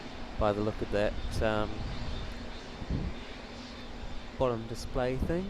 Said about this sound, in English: looks like we've got Malaysia Airlines as well taxiing